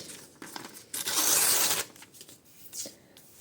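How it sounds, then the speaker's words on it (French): Pages from an old book torn by hand nearby: a few short papery rips, then one longer, louder tear, followed by quieter crinkling rustles. "je vais déchirer quelques morceaux ici"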